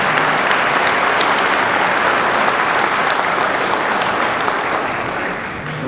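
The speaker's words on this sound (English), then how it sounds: "I'd appreciate a round of applause for all the hard work that they've put in for us" Loud, steady applause from a crowd at a Scituate town meeting, filling the hall continuously and fading slightly toward the end.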